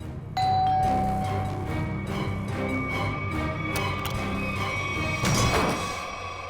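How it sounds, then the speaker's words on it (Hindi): A doorbell rings with a bright sustained chime tone, followed a few seconds later by a second ring, over steady room hum. "कौन डोरबेल बजा रहा है इतनी रात गए?"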